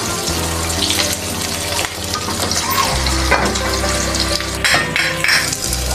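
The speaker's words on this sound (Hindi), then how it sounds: "उसी ऑयल में हमने प्याज भी डाल दिए हैं कढ़ाई के अंदर।" Onions frying in oil in a kadai, a steady loud sizzle with stirring clatter throughout, close up and without talk.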